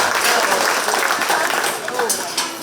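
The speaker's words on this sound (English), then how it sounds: "Let's give all of our exhibitors a huge round of applause for a good market barrel drive." Crowd at a county fair 4-H swine show applauds the exhibitors after a market barrow drive, dense clapping in a large show arena, loud and fairly close, easing slightly toward the end.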